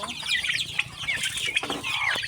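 Chickens in a rural backyard coop cluck and chatter continuously, several birds close by, with a brief wing flap or two.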